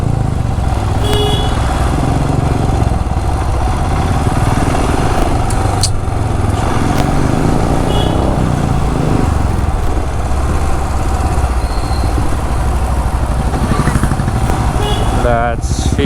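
An older Royal Enfield Classic 350 motorcycle engine thumping steadily on the road, loud and continuous, with traffic noise and a brief horn near the end.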